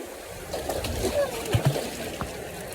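Water splashes and sloshes as people bathe in a small, shallow river, with irregular soft splashes and voices talking nearby.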